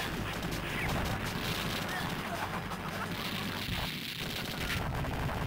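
Bombs go off in the arcade shooter Shock Troopers, a dense run of crashing blasts mixed with gunfire under continuous game noise.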